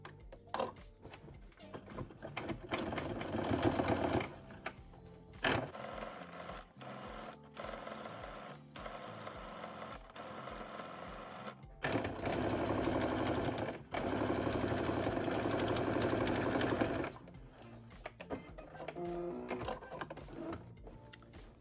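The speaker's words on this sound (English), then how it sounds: "So I'm going to do another row of stitches on both sides of the flat filled seam on the right sides of the fabric." A sewing machine runs rows of 3.0 mm stitches along a flat-felled seam on a denim jacket. The motor whirs in several bursts of steady rapid clatter, separated by short pauses.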